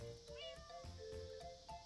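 A cat in a video game meows in a quick series of short, high, wavering calls, close and fairly faint, with no talk.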